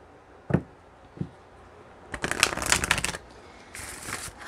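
A tarot card deck being shuffled: two brisk riffle bursts, a longer one followed by a shorter one, heard close up after a couple of soft taps, with no talking.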